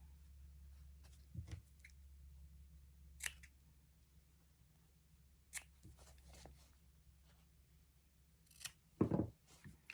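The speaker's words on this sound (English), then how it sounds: "I'm going to cut through the lining right there for turning." Scissors cutting through the fabric lining of a Dresden Plate angel ornament, producing a few faint, close, scattered snips over a low steady background hum, ending with a louder crunching cut.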